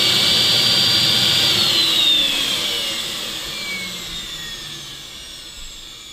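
A central vacuum motor runs with its faulty relay bypassed and the unit wired straight to power, giving a loud, steady whine and rush that rises briefly and then settles slightly softer, with no talking.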